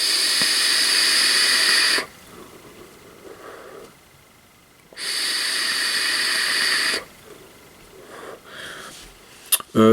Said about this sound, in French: Ça fait une bonne vapeur.